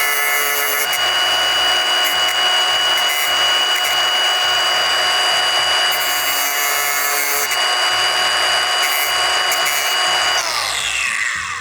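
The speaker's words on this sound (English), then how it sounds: "We need to shave these little lugs off of the throttle body" A power tool grinds steadily at small lugs on a BMW throttle body, a loud continuous whine with a few brief changes in pitch before it spins down at the end.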